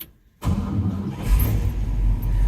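A 1959 Oldsmobile Super 88 engine cranks and catches right away without pumping the pedal, then settles into a loud, rumbling idle that continues to the end.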